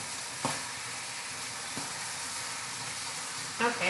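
Sauce sizzling and frying with Spam in a hot pan, a steady hiss with a few brief stirring or splatter pops, moderately close.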